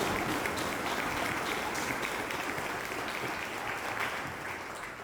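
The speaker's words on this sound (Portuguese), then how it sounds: "Pode aplaudir o Senhor" A church congregation at a New Year's Eve worship service claps together in a dense, continuous wash of applause, close and loud, easing only slightly toward the end.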